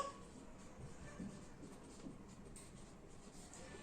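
Marker or chalk writing out a subtraction of equations during a Class 10 maths lesson, a soft continuous scratching and scraping of strokes at a low, steady level with no talking.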